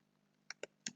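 A few quiet keystrokes on a computer keyboard while entering a sentence in Microsoft Word, three sharp clicks close together in about a second.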